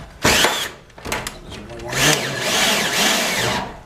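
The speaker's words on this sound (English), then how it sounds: "Now I'm going to shoot this bolt back in." A power drill drives a bolt back into a garage door while a new door seal is installed: a loud whirring burst near the start, then shorter bursts and a sustained grinding run, close and prominent.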